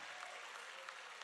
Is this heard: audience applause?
yes